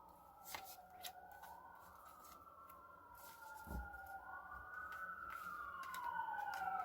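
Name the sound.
ambulance siren passing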